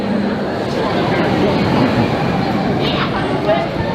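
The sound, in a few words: subway station with train, people waiting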